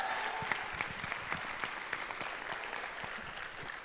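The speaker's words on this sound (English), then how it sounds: "So please give a round of applause for the dance captains" Applause for the dance captains at a student play performance, quiet and somewhat distant, with a thin crowd of distinct hand claps pattering steadily and gradually thinning out.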